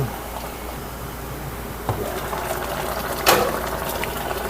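Alukon tree flowers dunked into a pot of boiling water for a brief half-cook, a steady bubbling simmer with a couple of sharper splashes as they go in.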